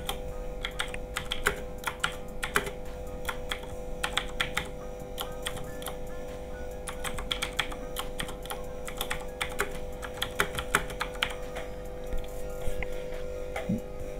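Computer keyboard typing while a form name is entered, a steady stream of quick, close key clicks with irregular rhythm throughout, with no talking.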